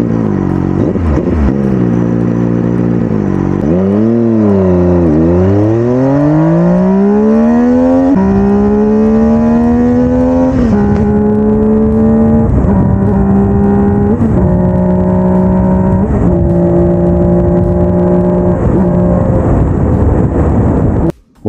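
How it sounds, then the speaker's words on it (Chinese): A Benelli TNT899 three-cylinder motorcycle engine revs hard and loud up close, its pitch sweeping up through a long run of rising gear pulls with brief dips at each shift, ending abruptly. "它的这个发动机声音的确炒螺丝，真的炒螺丝，尤其怠速，但是你速度一拉起来啊，这个声音确实好听"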